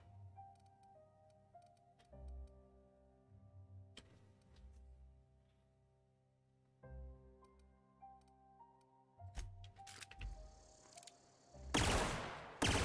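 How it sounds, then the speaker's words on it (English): A pistol in The Outer Worlds video game firing rapidly, a dense loud burst of shots arriving near the end after quieter clicking and game music. "that thing shoots mad fast"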